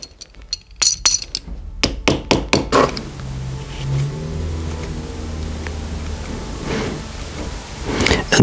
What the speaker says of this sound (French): je viens taper mes coutures à l'aide du marteau ivoire